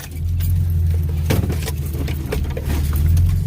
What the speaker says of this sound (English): Tractor gets a little dicey for some overhanging trees because it's so much taller, obviously.